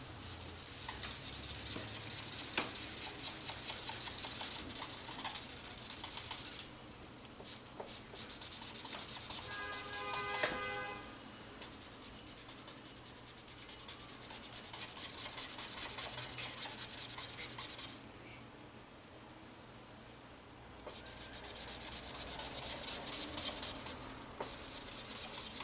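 A broad chisel-tip marker scrubs back and forth across paper while a page is colored, a close, continuous soft rubbing hiss with brief pauses and changes in stroke pace.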